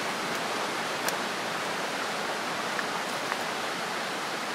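Babbling river stream at Sawatari hot spring, a steady, full rush of flowing water close by with faint splashes, continuous and alone with no voices.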